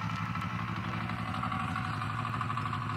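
A KKIC 406D intercultivator engine runs in low first gear with a steady, close, throbbing chug that never lets up.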